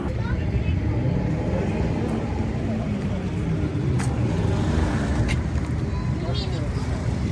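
Off-road cars race at an off-road festival in Sapanca, producing a continuous, loud engine drone with a rising and falling motor tone, while voices talk over it throughout.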